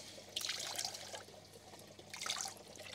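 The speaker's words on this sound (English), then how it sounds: "So just give that a bit of a rinse out." A filter sponge from a koi pond is rinsed out in pond water, giving two brief, soft bursts of splashing and trickling close by against a quiet background.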